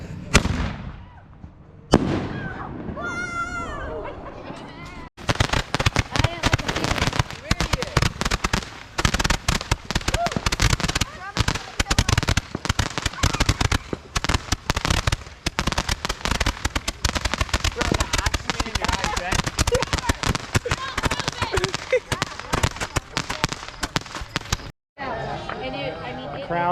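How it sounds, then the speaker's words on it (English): Fourth of July fireworks burst in a dense, continuous barrage of loud crackling pops and booms lasting over twenty seconds, with a few sparse blasts before it starts and people talking underneath. "Yeah, it was an actual like Fireworks celebration."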